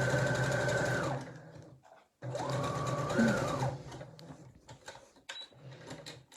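A sewing machine runs zigzag stitches along a drawstring bag in two long steady bursts of rapid whirring, separated by a short pause and followed by lighter mechanical clicks, close and loud.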